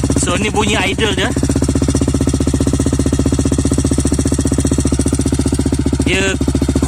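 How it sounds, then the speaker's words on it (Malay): A Modenas RFS150i motorcycle fitted with an Espada exhaust idles with a steady, loud, close, deep pulsing throb throughout, and short bursts of a man's speech rise over it near the start and end. "So ni bunyi idle dia."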